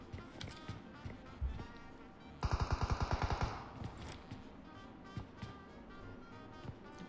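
DP-28 light machine gun in PUBG Mobile, solo versus squad: a fast, even burst of about ten rounds in the middle, with scattered single shots and game ambience around it under a voice.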